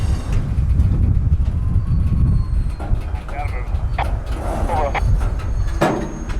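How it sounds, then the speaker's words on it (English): Circus train backing along a rail line into the yard, steady low rumble of rolling cars with scattered clanks and squeals, close and fairly loud, with some voices underneath. "the train now reverses and shoves it all back into the yard"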